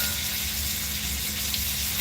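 Rice frying in butter in a pan gives a loud, continuous sizzle with a steady low hum beneath, no talking.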